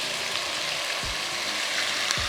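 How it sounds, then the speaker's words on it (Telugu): Grated onion paste frying in a pan gives a steady, moderate sizzle, with a couple of soft low thumps from stirring or utensil contact. "ఈ ఉల్లిపాయ పచ్చివాసన పోయి గోల్డెన్ కలర్ వచ్చేంత వరకు వేయించుకోవాలి"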